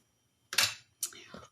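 Setting spray misted from a pump bottle over a made-up face: two short airy hissing bursts about half a second apart, close and fairly soft, with no talk over them.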